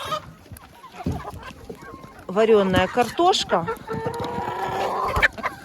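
Hens clucking and squawking while being fed boiled potato, a busy flock calling in overlapping bursts with one drawn-out call near the end, close by, under a woman's brief speech.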